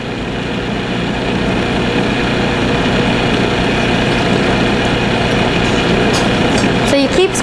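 A food processor whirs steadily with a loud, continuous motor drone as lemon square crust dough spins inside, holding an even level throughout with a brief clatter near the end.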